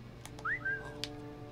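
A character in the stealth game Alekhine's Gun whistles to lure a guard, giving a short, clear two-note rising whistle with a soft click after it, alone over a quiet game background.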